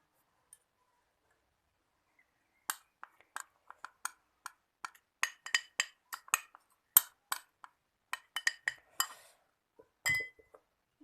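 A spoon stirs potato juice into a rice face mask in a small bowl, making quiet, irregular clinks and taps against the bowl in bursts, close by with no talking.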